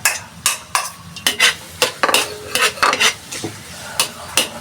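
Garlic sautés in melted butter in a pan before mud crab goes in, a close, crisp sizzle broken by repeated sharp scrapes and clinks of a utensil stirring against the pan.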